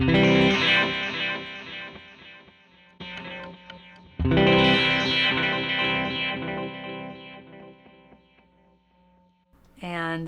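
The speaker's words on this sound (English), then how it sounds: "The delay trails sound completely different." An electric guitar played through a delay effect pedal rings out in sustained chords, with echoing delay trails that swell and fade between strums.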